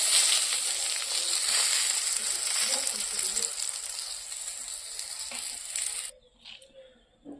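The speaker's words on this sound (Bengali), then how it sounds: "হয়ে যাচ্ছে আমার পটল ভাজি নামিয়ে নেব" Pointed gourd (potol) slices frying in a pan, a loud, dense sizzle held for about six seconds before it cuts off abruptly, leaving a few faint clinks.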